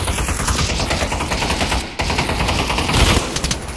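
Gunfire in Pavlov VR, sustained loud machine-gun bursts of rapid, tightly packed shots running almost continuously, close and harsh, with no talk over them.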